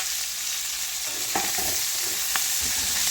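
Shallots and small green chillies fry in a pan with a steady, bright sizzle, broken by a few soft stirring scrapes, close and alone.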